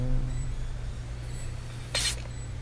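A spray bottle spritzed once in the video game Five Nights at Freddy's: Help Wanted 2, a short hissing burst rising over a low steady background hum.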